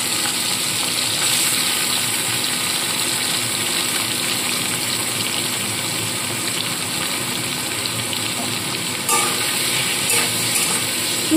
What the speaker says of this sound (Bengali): যে চিংড়ি মাছগুলো ভালো করে নুন হলুদ মাখিয়ে রেখেছিলাম সেগুলো আগে ভেজে তুলে নিতে হবে